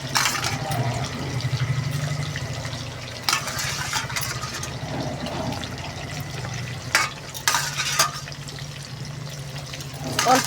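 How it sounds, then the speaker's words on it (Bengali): Potatoes frying in oil in a pan over a clay stove make a steady, close sizzle throughout. Occasional sharp clinks and scrapes from stirring break through the hiss. "তো আলুটা ভালো করে লাল লাল করে ভেজে ফেলি"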